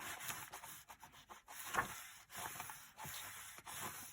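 A paper flap on a handmade mini album is burnished down with quick, faint rubbing strokes in an uneven rhythm, close and quiet with no talking.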